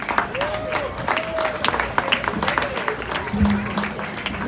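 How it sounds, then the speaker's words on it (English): An outdoor crowd at a Labour Day rally in Union Square claps for the Minister, a moderate scattered applause with a voice speaking through it. "Let's give a nice big round of applause for our Minister, Sister Levita Fogo"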